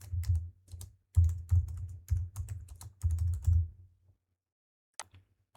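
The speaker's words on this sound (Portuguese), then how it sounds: "Eu vou dar um enter aqui e vou colocar o meu nome." A name is typed on a computer keyboard in quick bursts of close, crisp key clicks, broken by brief pauses, then a final single keypress after a short silence.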